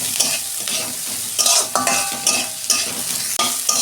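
Chopped onions and tomatoes fry together in a pan for a shrimp dish, with a crackling sizzle broken by repeated rhythmic scrapes of a spatula stirring them, close and with no voices.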